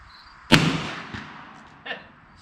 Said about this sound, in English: I have some of these ancient paper shells, probably from the 1960s. I just want to shoot them and see how they go.